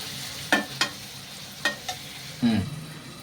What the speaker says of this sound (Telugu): ఇప్పుడు ఇందులోనే మనం కడిగి పెట్టుకున్న నెత్తలు వేసి ఒక 5 నిమిషాల పాటు వేయించుకుందాం.